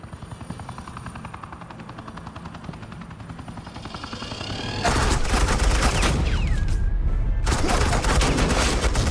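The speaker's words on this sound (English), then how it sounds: "Suppressing fire" Suppressing gunfire in Batman: The Telltale Series, a dense, loud burst of rapid shots that breaks in halfway through over a background helicopter drone, stops briefly, then resumes.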